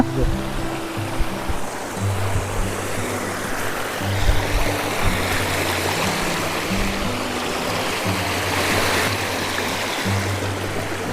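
A waterfall and stream near Enkoor and Nacharam in Khammam pour and rush in a steady, dense roar that runs without a break, with a faint low hum underneath.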